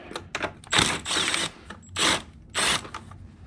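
Ratchet turning 10mm bolts during clutch work on a 2007–2013 MINI Cooper S, three or four close bursts of rapid clicking separated by short pauses, no speech.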